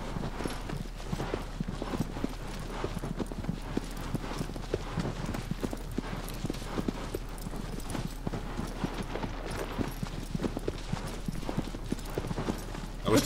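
Horse hooves clip-clopping steadily in Shadow of the Colossus, a continuous rapid galloping rhythm of close, dense hoofbeats over a low hum, with no talking.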